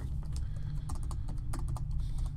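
Quick clusters of button clicks from someone playing a video game, crisp close taps arriving in bursts with short gaps, over a constant low background hum.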